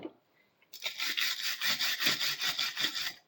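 A brush scrubs the working surface of a clamp vise during restoration, a steady rapid back-and-forth rasping of bristles on metal lasting a few seconds, close and loud with no talk.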